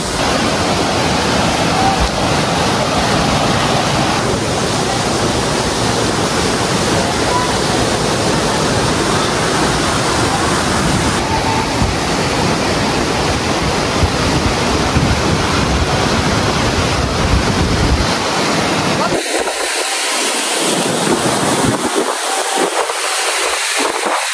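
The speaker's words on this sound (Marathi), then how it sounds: "तुम्ही मागे बघू शकता की चांगलाच फोर्स आहे पाण्याला" Zenith waterfall near Mumbai roars as a loud, unbroken rush of water close up, with heavy wind buffeting the microphone until the sound cuts off near the end.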